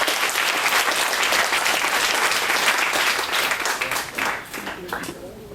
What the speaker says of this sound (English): A big round of applause, please, for TorahAnytime.com.